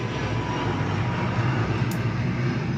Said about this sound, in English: a plane has to go by while I'm filming this video